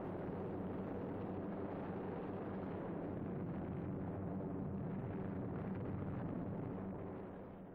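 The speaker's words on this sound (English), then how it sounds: "Using some old German battleships as targets, Billy Mitchell showed what precision bombing could do." Bombs exploding on old German battleships used as targets, in archival footage of a precision bombing test: a continuous, loud, rumbling roar of blasts that holds steady before fading slightly at the end.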